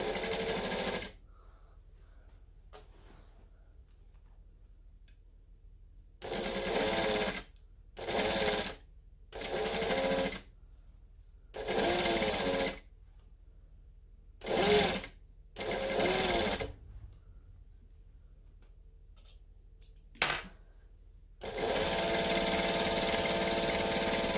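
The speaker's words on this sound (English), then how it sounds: "So we're going to back stitch, and then we just want to stitch it a little bit wider." A sewing machine back-stitching elastic while making a Butterick B6764 garment runs in about eight short, loud motor bursts of whirring stitches, separated by near-silent pauses.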